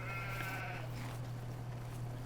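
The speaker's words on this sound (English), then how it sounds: "Weave in and out of the sheep." Sheep bleating in the farming video game Farming Simulator 17: one short, quiet, wavering bleat at the start over a steady low background hum.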